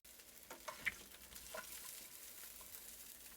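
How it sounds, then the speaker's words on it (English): Lobster shells sear in a hot pan with a soft, steady sizzle, broken by a few brief scrapes and clicks as pieces are moved. The sound stays fairly quiet and close, with no talking. "Just going to sear them a little, get some flavor into the pan."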